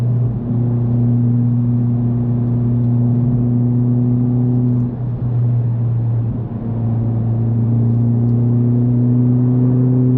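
A Honda Civic Type R drives with a steady, loud droning engine hum from inside the cabin, holding a sustained tone with slight dips and no voices.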